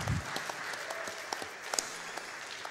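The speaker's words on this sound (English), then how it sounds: "Now the stage is complete. You may clap again." Light scattered audience clapping at a Freedom Planet speedrun event, thin and somewhat distant, a few sharp claps standing out over a soft, steady patter.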